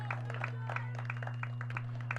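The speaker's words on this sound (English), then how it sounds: "A nice ovation from the crowd that's here." Crowd clapping for seniors on senior night at a varsity high school soccer game, scattered, moderately distant applause with uneven claps over a steady low hum.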